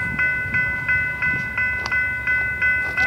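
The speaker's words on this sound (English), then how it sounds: "Oh, that's a oil train." A long eastbound freight train carrying oil passes on the Union Pacific Overland Route, its wheels clacking in a steady repeating rhythm close by, while sustained horn-like tones ring over the rolling noise.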